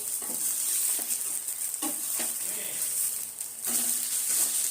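Corn dosa sizzling in sesame oil on a pan just after flipping, a steady frying hiss with a few soft scraping stirs over a few seconds, no talking.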